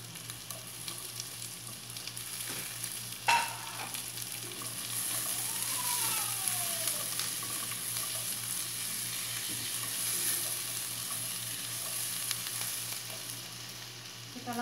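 Garlic sizzles in hot oil in a pan, with a steady, close frying hiss throughout. A single sharp clink sounds early on, and there is no talking.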